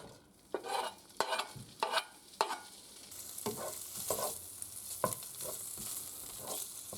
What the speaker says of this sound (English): I like to add in the bacon and chili at the same time and just cook the bacon till it's nice and brown